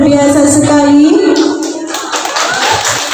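Applause at a farewell party of MTs & MA Umar Mas'ud school in Sangkapura, Bawean, for a student who completed 15 juz of the Quran; dense close clapping swells in after a voice and continues to the end.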